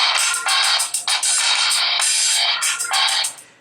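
Music track at full volume from the loudspeaker of a Yu Yuphoria phone, bright and thin-sounding, with rhythmic bursts continuing steadily and no talking.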